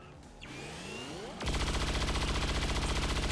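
Halo Bullets gunfire shreds armor in the XCOM 2 video game: a quiet lead-in, then a rapid, evenly pulsing burst of shots that stays loud for about two seconds.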